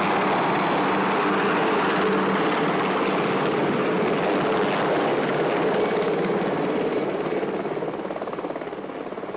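Helicopters fly overhead with a loud, continuous rotor roar and engine whine, steady throughout and fading slightly at the end.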